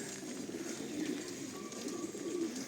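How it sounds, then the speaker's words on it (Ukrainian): Pigeons coo softly in low, repeated calls against a hiss of steady rain in a resort park in Truskavets. "Бачите, скільки голубів"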